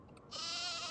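Sheep bleating in the video game Nancy Drew: The Haunting of Castle Malloy: one loud, sustained, wavering bleat begins a moment in and carries clearly to the end, close and alone.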